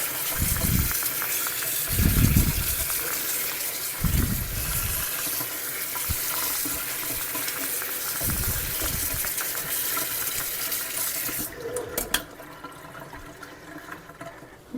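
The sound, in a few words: rinsing strawberries under running tap water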